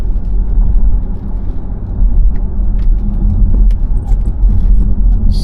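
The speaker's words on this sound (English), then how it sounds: "So we're just on a bumpy stretch of road." Interior of a 2023 Audi Q3 S-line 40 TFSI driving over a bumpy stretch of road: a loud, constant low rumble of road and engine noise with occasional soft knocks and rattles, and no talk.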